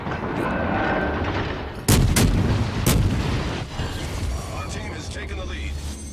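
Warship cannon fire in the video game World of Warships Legends on Xbox One, a couple of sharp booming salvos over a continuous low engine and sea rumble, with someone talking over it.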